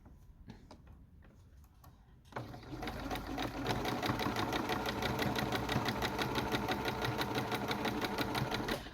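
A domestic sewing machine stitches a bandana, its fast, steady mechanical ticking rising after a few quiet taps and running loud and close without pause to the end, with no talking.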